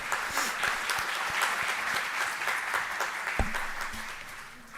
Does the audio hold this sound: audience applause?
yes